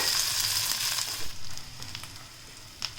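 Ginger and green chillies sautéing in a pan, a short sizzle with light crackle, strongest at first and then easing off, close and moderately quiet.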